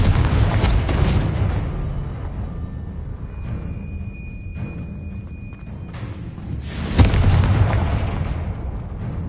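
A rolling, booming blast from a Confringo fire spell in the Hogwarts Legacy video game, heavy low rumble swelling again near the end over a dense, continuous game soundscape.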